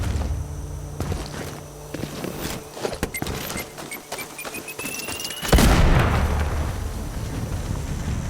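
A loud explosion bursts out in the Sniper Ghost Warrior Contracts 2 game, a sharp boom after scattered clicks and footsteps, followed by a rumbling, noisy tail that lingers to the end.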